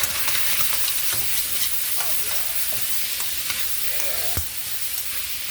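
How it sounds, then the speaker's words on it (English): Beef browns in a frying pan for beef and broccoli, sizzling loudly and steadily up close, with scattered clicks and scrapes from stirring; no voices. "See how that meat's starting to brown?"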